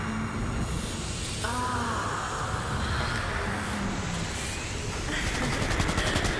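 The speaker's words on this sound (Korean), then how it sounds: "바깥에서 쏘는 소리 나는데요, 선생님? 누가 뭐 쏘던데? 선생님, 총소리 들렸어요." Bursts of rapid gunfire in Cyberpunk 2077 crackle throughout, steady and moderately loud, with game sound effects layered over it.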